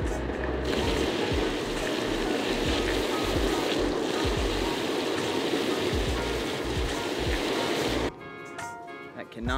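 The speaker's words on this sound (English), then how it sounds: "I didn't realize that they were running the sprinklers over there, otherwise I wouldn't have gone that way." Lawn sprinklers spray water as an electric board rides past them, making a steady, full hiss of spray that holds throughout and then cuts off abruptly near the end.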